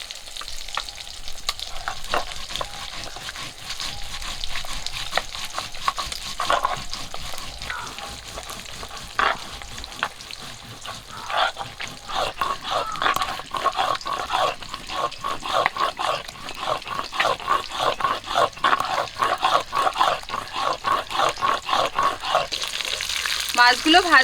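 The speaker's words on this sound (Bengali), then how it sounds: "মাছগুলো ভাজা হয়ে গেছে" Small Japanese puti fish fry in hot oil, a continuous crackling sizzle that grows busier and louder toward the end, close up, with occasional clinks and faint voices.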